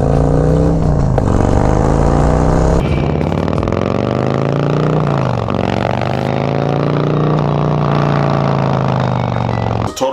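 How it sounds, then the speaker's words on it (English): A loud motorcycle with a Khrome Werks Dominator 2-in-1 exhaust and 465 cam revs close by, its raspy exhaust note rising and falling through sustained throttle sweeps. "what your bike could sound like if you had this Khrome Works 2-in-1 exhaust"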